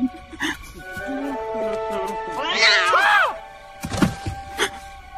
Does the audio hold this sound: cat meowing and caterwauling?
yes